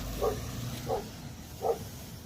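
A police K9 dog inside a patrol car gives three muffled barks, evenly spaced and heard through the car, over a low rumbling background.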